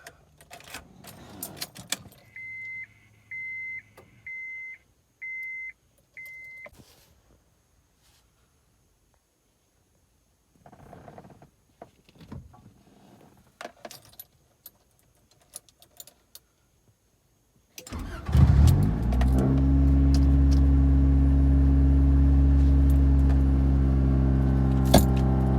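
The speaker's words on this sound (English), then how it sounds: "We're gonna go ahead and turn the car on." A 1995 Honda Accord engine cranks and catches, then settles into a loud, steady idle for the last eight seconds, preceded by jangling keys and quiet clicking and handling noises.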